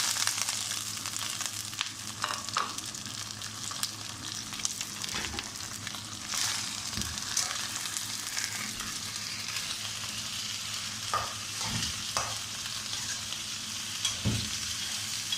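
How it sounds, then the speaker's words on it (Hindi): Chicken pieces frying in a pan of already fried onions for chicken korma, a continuous close sizzle with occasional knocks and scrapes of stirring and no talking. "अब इसके अंदर हमने ये चिकन डालना है"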